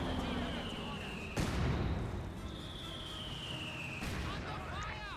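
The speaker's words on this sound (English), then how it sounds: "Mortar fire there." Mortar fire in the Company of Heroes 2 strategy game lands as a couple of distant, muffled booms under a constant wash of battle noise and whistling shells.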